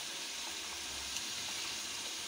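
Onions frying in a pan after potatoes were browned, a steady, even sizzle holding throughout with faint stirring underneath and no voices.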